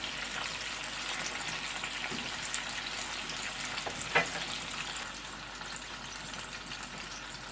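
Tomato frying in a pan over low heat gives a soft, continuous sizzle, with a brief stir or clink partway through and no talking.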